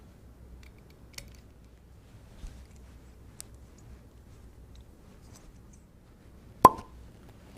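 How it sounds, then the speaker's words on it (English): A cork pulled out of a wine bottle, one crisp pop near the end after quiet faint handling ticks and rustles, close and alone. "And we got the cork out."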